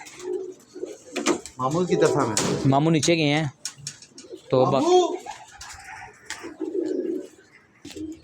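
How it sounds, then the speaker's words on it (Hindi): A pigeon coos in soft, rolling bursts near a rooftop loft, mixed with men chatting nearby and occasional clatter. "ये आ गया कबूतर।"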